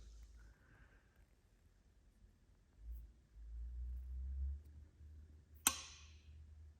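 A single sharp metallic click as a head bolt drops into its thread on a Subaru STI engine block, standing out clearly against low background rumble, with no talking.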